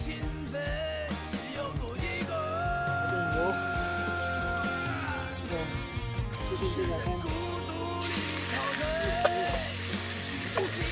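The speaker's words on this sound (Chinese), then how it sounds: "开始来炒菜" Vegetables stir-fry in a pan over an outdoor wood fire, with a loud, continuous sizzle and frying crackle, plus scraping and stirring clatter from a spatula throughout.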